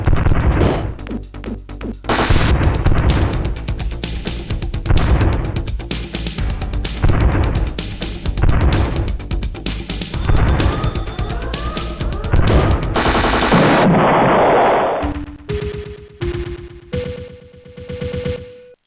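Spaceship guns fire in a Star Control 2 battle in a video game, with loud rapid repeated electronic blasts and booms over busy game sound, then a few sustained tones toward the end.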